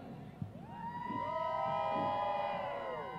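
A crowd at a 2018 Veterans Day parade makes a loose, distant roar of cheering and noise. A siren wails and rises over the crowd, with a sharp knock early on.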